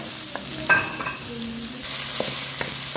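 Tomato and garlic fry in a pan for chicken pochero with a steady sizzle, broken by a few sharp scraping strokes of a spoon stirring through the mix, close and fairly loud, no talking.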